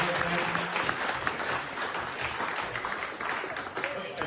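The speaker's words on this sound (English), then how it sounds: "Let's give the Dirt Row family a round of applause." A hall audience at a talk about lost ski areas of Underhill breaks into dense, sustained applause, a steady wash of many hands clapping at moderate volume, with some voices mixed in.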